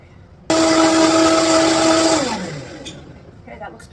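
A countertop blender purees peaches for a mousse, starting abruptly with a loud steady whir for about two seconds, then its motor pitch winds down and the whir fades out, followed by faint clatter.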